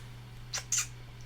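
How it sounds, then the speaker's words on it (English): A pet cat gives two short meows in quick succession, the second louder than the first, over a quiet room with a low steady hum. "This cat is doing the most and I love him."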